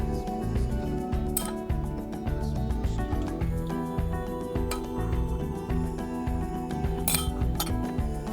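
A spoon clinks against the rim and pot while spooning sauce over a frozen salmon fillet in an Instant Pot, scattered sharp metallic taps and scrapes, close, with no talking.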